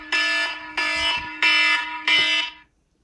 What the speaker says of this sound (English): My alarm.